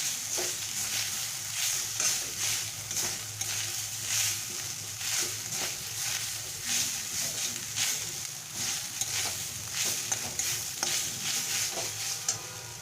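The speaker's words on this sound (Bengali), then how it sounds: "মশলার সঙ্গে এটা আবারও ভালো করে মিশিয়ে নেব" Grated coconut and spices are stirred in a frying pan for kochu shak, a Bengali taro-leaf dish. Repeated scraping strokes of a spoon land over a continuous quiet sizzle, with no voices.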